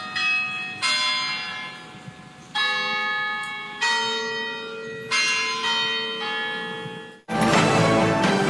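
Carillon bells ring a slow sequence of loud, resonant strikes, each one left to decay before the next, before a burst of broad noise cuts in at the end.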